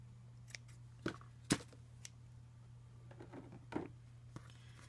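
Scissors snipping the end off a ribbon while making a spring gift box, a few quiet crisp cuts and small handling taps over a low steady hum.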